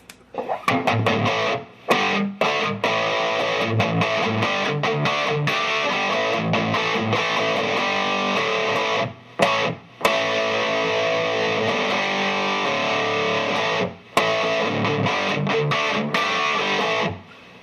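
A distorted electric guitar plays heavy sustained chords through a Fender Super Sonic amp with no reverb, loud and continuous with a few abrupt pauses between phrases.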